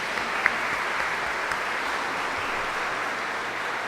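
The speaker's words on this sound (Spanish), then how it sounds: "Un aplauso para los Josés y Josefinas." A church audience at a Lenten gathering claps together in sustained, even applause that holds steady for several seconds.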